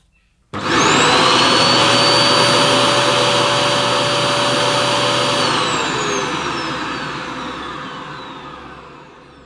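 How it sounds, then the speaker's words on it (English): A Hoover Reactiv vacuum cleaner with a suction gauge sealed on the hose end switches on abruptly and roars steadily, its motor whine holding loud before the pitch slowly sags and fades as sealed suction builds. "I'm going to put my suction gauge on the hose end and we'll switch on"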